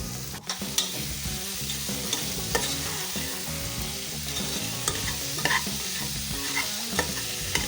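Small shallots frying in oil with ginger, garlic and curry leaves for a Kerala beef curry, a steady close sizzle broken by repeated scraping and stirring clatter from a spoon against the pan.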